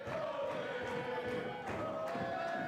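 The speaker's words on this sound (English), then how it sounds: "The Olay chant kicking up from the crowd here in Bethany." Crowd at an independent wrestling match in Bethany chants olé in a steady, rhythmic, moderately distant roar that fills the whole stretch, with no single voice standing out.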